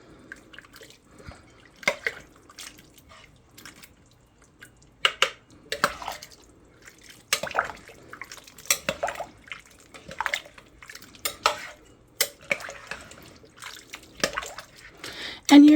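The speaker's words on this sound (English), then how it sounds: "And now we're gonna give it a stir." A crockpot of soup with four cups of beef broth and potatoes is stirred, giving soft, intermittent wet sloshes and clinks at close range.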